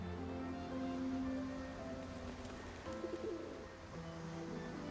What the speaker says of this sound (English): Oh, it's a messenger pigeon.